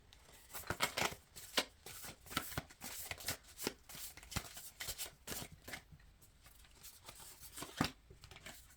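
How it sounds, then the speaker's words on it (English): Tarot cards are shuffled by hand in quick riffling, flicking bursts with soft slaps as cards are drawn, close and fairly quiet, and no voice is heard. "I'm going to pull one more card before I begin to speak on that."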